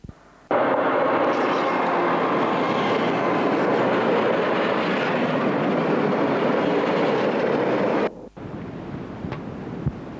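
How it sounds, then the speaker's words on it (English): Train passing on a rural railway line as a loud, sustained rumbling roar with clattering and wind buffeting the microphone, cutting off abruptly to quiet ambience near the end. "the occasional diesel-hauled freight"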